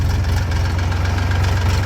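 A tractor engine idles close by with a steady, low, rhythmic chugging throb, loud and continuous throughout.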